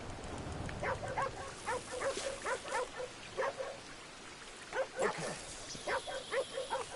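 In the open world of Red Dead Redemption 2, a dog barks repeatedly in short irregular bursts, moderately close, over a steady patter of rain.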